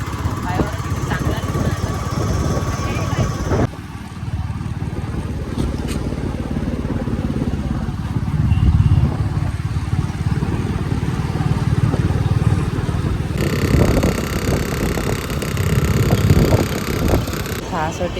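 Steady engine drone of a moving scooter or motorcycle on a city ride in Amravati, continuous and fairly loud with wind and road rumble, while people talk over it.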